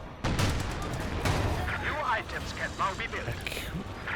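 Infantry support guns firing in a Company of Heroes 2 match, heavy booming shots in quick succession amid crackling gunfire and explosions, with a commentator speaking over the battle.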